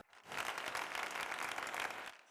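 A sparse crowd at a youth tennis tournament in Brazil in Tennis Manager 26 breaks into applause, a brief, even wash of clapping that starts and stops abruptly, fairly faint.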